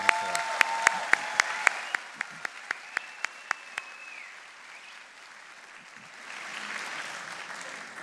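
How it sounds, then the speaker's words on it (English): Applause at a spring graduation convocation for the graduating class: sharp, evenly spaced claps ring out close by for about four seconds over a softer crowd wash, which then thins to a low murmur before swelling slightly again. "how about one more huge round of applause for the entire graduating class of 2024"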